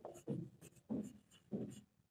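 Marker or chalk writing on a board during a class 12 vector algebra lesson, with several short scratchy strokes in quick bursts, close and moderately loud, no speech.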